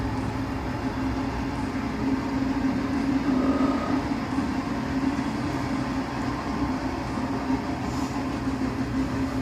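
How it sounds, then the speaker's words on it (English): A train passes nearby, a steady continuous rumble with a low hum that stays loud and even for the whole stretch, with no talking over it. "there's a train going by"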